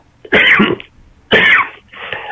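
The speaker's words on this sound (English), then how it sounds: "I won't be able to stop coughing" A person coughing in two loud, harsh bursts about a second apart, followed by a third weaker hack, close up with quiet between.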